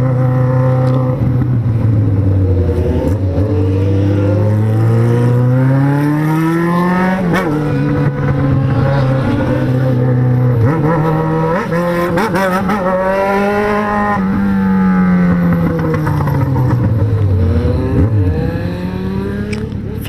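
A loud motorcycle rides hard and revs continuously, its engine pitch swelling and dropping through gear changes in a steady close roar that runs unbroken with no voices.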